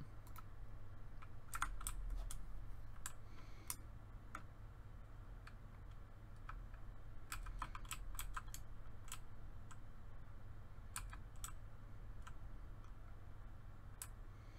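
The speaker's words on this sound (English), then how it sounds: "Mechanical keyboard sound though" Mechanical keyboard keys clatter in uneven bursts of sharp clicks during Fortnite Save the World play, steady and close over a low background hum, with no talking.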